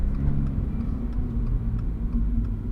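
A 2024 Subaru BRZ tS engine under throttle from inside the car, a loud, steady low rumble and drone with faint periodic ticking, no voices.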